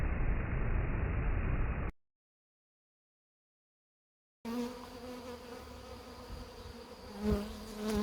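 A swarm of honeybees buzzing near their hive, a dense steady hum that drops out into silence midway, then returns as closer, layered droning with a louder swell near the end.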